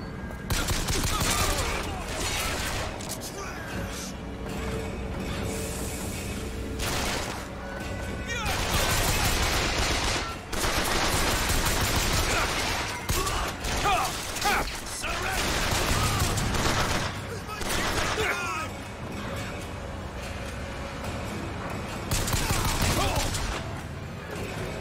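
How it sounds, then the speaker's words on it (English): Bursts of machine gun fire in the shooter game Bioshock Infinite, loud and repeated throughout, sometimes in long fusillades, mixed with game effects and talk over the top. "can I pick up the machine gun?"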